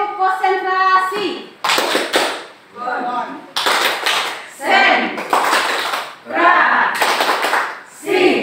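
A class of ninth-grade students performing the 'tepuk konsentrasi' concentration clap, short rhythmic clapping bursts interleaved with group chanting and speech, close by.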